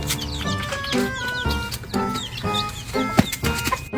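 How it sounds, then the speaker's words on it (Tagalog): Chickens cluck repeatedly in short choppy bursts, close and fairly loud, with scattered sharp clicks and rustling around them. "Tinatakot mo naman yung manok."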